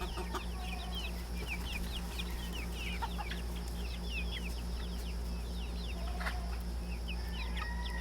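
Rhode Island Red chickens cluck and chirp steadily on a farm, many birds calling at once over a constant low hum, with no voices.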